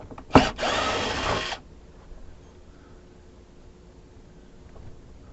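A power drill backs screws out of an RV roof in one short burst of about a second, loud and close, followed by quiet.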